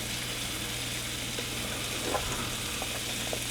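Onions sizzle and fry steadily in a big pan as aromatics, a dense continuous crackle with a low hum underneath and a few soft stirring scrapes toward the end.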